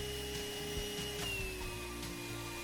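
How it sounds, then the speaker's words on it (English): A 35-year-old vacuum cleaner runs steadily as it pulls mule tape through conduit for wiring, a continuous loud motor drone with a fixed whine and no pauses. "this is not your big, rigid vacuum cleaner. And like I said, this vacuum is 35 years old"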